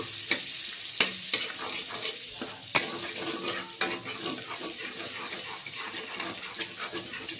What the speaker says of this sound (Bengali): বাটারটাকে তেলের সাথে ভালো করে মেল্ট করে নেবো